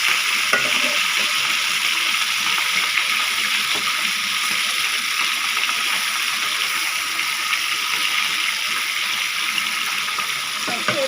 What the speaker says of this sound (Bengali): এভাবে আমি সব মাছগুলো ভেজে নেব